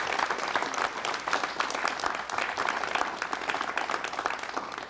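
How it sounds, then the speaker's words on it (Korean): Studio audience on a 1988 Korean television talk show applauds steadily for a veteran calligrapher's introduction, a dense, even wash of clapping holding at a constant level throughout, with no talk over it. "여러분 박수를 부탁하겠습니다."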